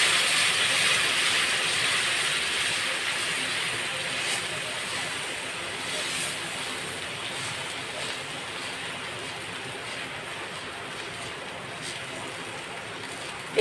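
Uttapam batter sizzles in hot oil in a pan, a steady, dense frying hiss that holds evenly throughout and fades only slightly, with no other sounds over it.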